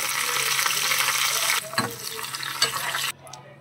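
Dried red chillies added to oil with mustard seeds, fenugreek and cumin for a tomato rasam tempering, a constant close sizzle with a few spoon clinks before it cuts off.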